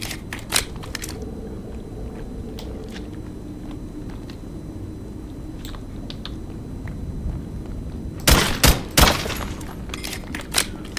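Gunfire in modded Minecraft in the Nether, heard as scattered sharp cracks over a constant low rumble, followed by a louder rapid burst of shots near the end.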